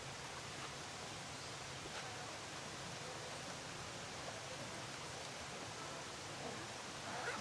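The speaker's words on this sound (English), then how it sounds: "there's a waterfall just behind us. You might be able to hear in the audio" A waterfall rushes just nearby in Hiroshima, Japan, a steady, faint, even wash of falling water with no voices over it.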